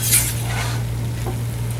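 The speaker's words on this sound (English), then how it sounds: "give my cheesesteaks, my meat for my steak, a stir" Sliced steak meat for Philly cheesesteaks sizzles in a hot pan as it is stirred. A brief scrape and clink comes at the start, then steady frying hiss over a low electrical hum, with no talking.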